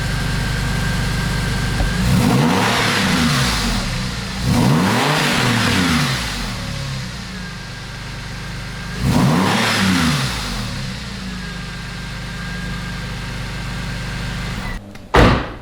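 Cheap Porsche 911 with an aftermarket performance exhaust, revved hard three times from idle, each blip a loud rising-and-falling roar, with a steady idle between and a brief clunk at the end.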